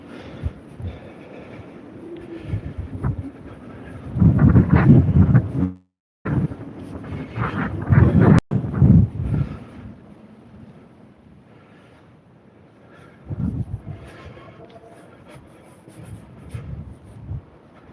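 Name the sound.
strong wind blowing on a sunny day in the UK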